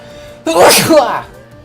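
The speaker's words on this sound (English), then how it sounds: "I'm gonna sneeze." A single loud, close sneeze, a sharp burst with a breathy release, on its own after a moment of quiet.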